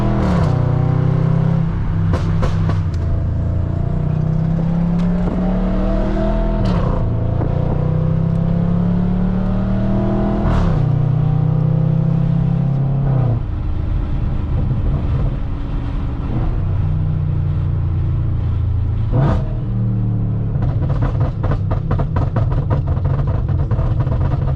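Straight-piped Audi RS4 B8 on a test drive, heard from inside the cabin, rising through several hard full-throttle pulls with a loud rasping exhaust, each gear shift dropping the pitch, plus pops and crackles on lift-off.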